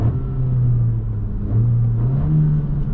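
A 2020 Honda Civic Si engine with sport mode on hums steadily and loudly, a low droning rumble that rises slightly in pitch as it is given gas, with no other sounds over it.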